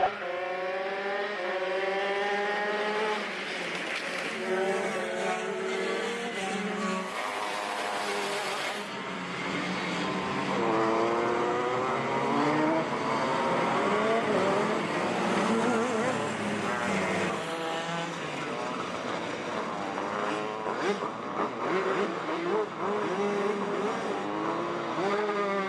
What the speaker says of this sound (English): Looks like 6 shifters out there on track.